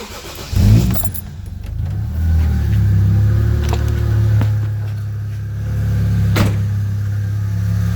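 A 1989 Toyota Cressida with a 1JZ engine cold starts, cranking and catching, then settling into a loud, steady idle with a low rumble, a few faint clicks and rattles over the top.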